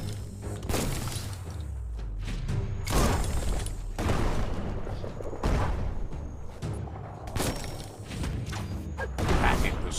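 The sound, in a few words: bomb lobber weapon explosions in the video game Biomutant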